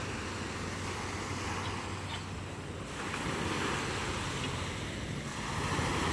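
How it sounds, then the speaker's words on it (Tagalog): Steady surf and wind noise along a shoreline, with a low motor hum running underneath as a fishing boat comes in over the waves to land its catch. "may dumarating oh, bangka"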